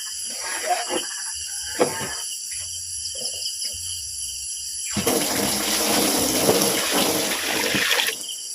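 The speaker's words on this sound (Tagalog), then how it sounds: "Lalagyan natin ito tubig." After a few scattered clicks and knocks, water suddenly rushes and splashes steadily into a container, a continuous hissing pour lasting several seconds.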